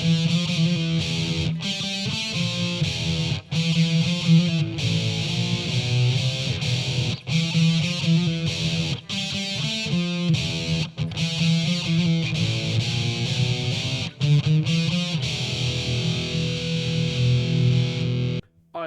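Heavily distorted electric guitar played through pedals, cab simulation, EQ and reverb chugs out a dense, loud riff with sharp palm-muted stops and short gaps, continuous and alone with no voices.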